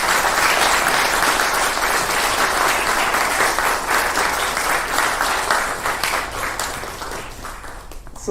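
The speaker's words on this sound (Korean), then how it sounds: "힘찬 박수 부탁드립니다." Staff and audience applaud loudly at a Catholic university hospital's director inauguration ceremony, a dense, steady wash of clapping that runs for several seconds and thins slightly toward the end.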